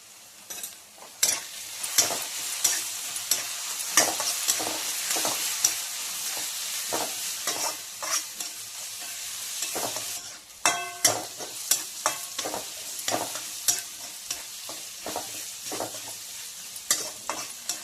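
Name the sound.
onion with turmeric frying and being stirred in a pan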